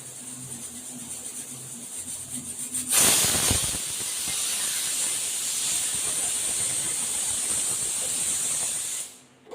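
A pressure cooker cooking mutton lets out a loud, sudden burst of hissing steam and a high whistle about three seconds in, sustained strongly for several seconds before cutting off abruptly.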